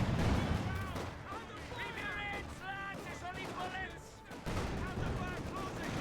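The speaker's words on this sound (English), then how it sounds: "Mortar fire around here, could be an idea there for Caesar." Mortar blasts and gunfire rumble and crackle in the video game Company of Heroes 2 as a battle plays out beneath a steady stream of commentary, with the combat sounds mostly staying in the background.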